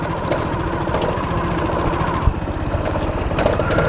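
A motorcycle ridden slowly along a muddy forest trail, wet from recent rain, in Khisma forest, Nadia district. Its engine drones steadily and close throughout with a rough, pulsing chug and one brief knock near the middle.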